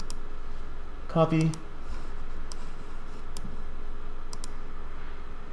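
A few sharp, isolated mouse clicks while working in ChemSketch software, spaced apart over quiet room tone, with a single brief spoken word near the start.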